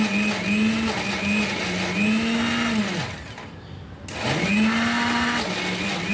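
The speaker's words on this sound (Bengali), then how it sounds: "এখন এগুলোকে আমি ব্লেন্ড করে নিব।" A kitchen blender whirring through a chicken nugget mixture with egg and coriander, a loud motor whine that dips and rises as the blade bogs down, cuts out briefly, then surges back.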